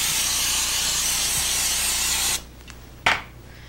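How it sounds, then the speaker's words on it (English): Steady hissing spray of flour-and-grease baking spray from an aerosol can into a cake pan, loud and close for over two seconds, then a brief second short burst. "my secret is using a spray that contains flour and grease in it"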